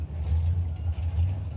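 At Santa Pod Raceway during a drag racing event, a Jaguar E-Type drag car's engine gives off a low, steady rumble, loud and close, with no speech.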